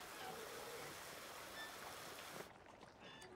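Water gushes steadily from a tap into a livestock trough on a farm, a dense close rushing hiss that drops abruptly in brightness near the end as the flow changes.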